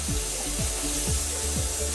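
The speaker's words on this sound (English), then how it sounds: "Run that hot water." Hot water running from a kitchen tap into a sink, a steady close rushing stream with a faint repeating lower sweep beneath it, continuous and fairly loud with no speech.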